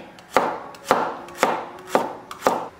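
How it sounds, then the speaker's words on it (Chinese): A knife chops through garlic cloves on a cutting board, five sharp, evenly spaced cuts about half a second apart, close and clear with no talking. "再来切一些蒜片"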